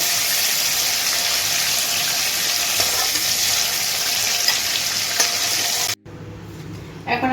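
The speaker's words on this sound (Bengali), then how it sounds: "তুলে বাকি মাছগুলো ভেজে নেবো" Prawns frying in hot oil in a pan, a steady loud sizzle with occasional stirring scrapes that stops abruptly near the end, followed by quieter clinks.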